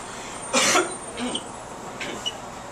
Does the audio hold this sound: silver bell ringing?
no